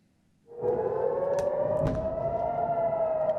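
After a brief quiet moment, an ambulance siren starts wailing, its tone rising and then holding loud and steady.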